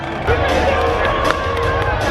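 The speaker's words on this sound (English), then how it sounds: "Let's cheer him on, fans." A crowd of fans cheers and whoops in a loud, continuous burst, with a dense wash of voices and scattered shouts filling the short stretch.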